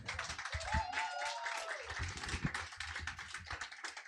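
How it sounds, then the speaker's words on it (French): Audience at a science event gives a short round of applause: scattered, fairly faint clapping from many hands that stays steady for a few seconds, with a brief tonal whistle mixed in. "Je vous propose de refaire une petite salve d'applaudissements pour Gwenaëlle."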